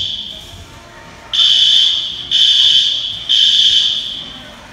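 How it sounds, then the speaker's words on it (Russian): A shrill electronic fire alarm blares inside a Costco store in three long, repeated blasts, loud and piercing over faint background noise. "Какая-то пожарная сигнализация или что?"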